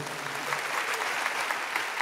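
A church congregation claps together in steady, dense applause during a worship service, a continuous bright patter of many hands at moderate volume.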